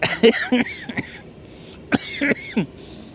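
Several harsh coughs in quick bursts after inhaling smoke from a Corvette fire, close to the microphone, with short pauses between them and a second cluster of coughs after a brief quiet.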